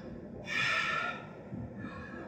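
A single noisy, audible gasp of breath drawn in the wrong way through the mouth during a tuba lesson, close and fairly soft, followed by a fainter exhale.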